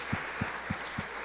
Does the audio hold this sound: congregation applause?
yes